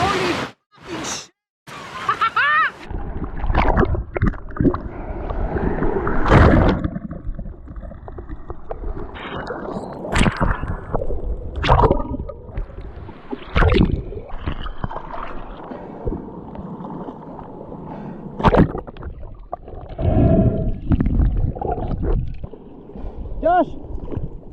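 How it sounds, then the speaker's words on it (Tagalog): Strong waves surging around a small boat at sea, with loud splashing and churning water and wind buffeting the microphone, while people shout over the noise. "Sobrang lakas ng alon!"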